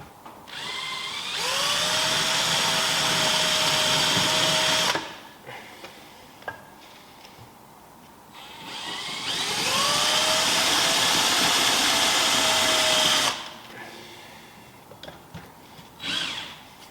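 A power drill bores holes in a brake mounting bracket on a Volkswagen Scirocco Mk2 in two long bursts of several seconds each, with a whining motor pitch that rises as it spins up, separated by quieter pauses with small clicks.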